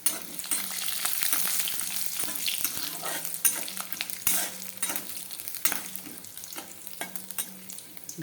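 Bay leaf and peanuts fry in hot oil in a home kitchen pan, giving a steady, soft sizzle with a few stirring scrapes and clinks throughout, fairly quiet and without voices.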